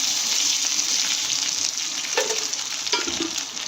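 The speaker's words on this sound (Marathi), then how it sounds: "आणि हा मसाला व्यवस्थित भाजून घेऊया." Spice masala roasts in hot oil in a pan for a Karnataka-style festive thali, giving a steady, close sizzle and fry with a few soft stirring scrapes and no talk.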